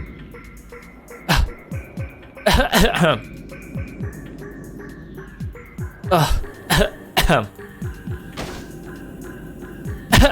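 Repeated harsh coughing and choking bursts from a woman in a video game come in irregular fits over several seconds, mixed with dull thuds and low background sounds.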